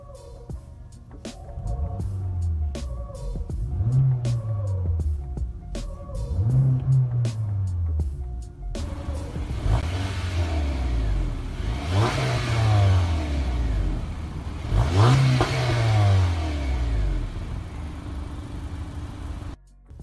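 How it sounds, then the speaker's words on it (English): A 2017 Honda Accord engine revs repeatedly in a steady series of blips, each rising and falling in pitch, heard up close and loud with no talking. "Now let's give the car some rev."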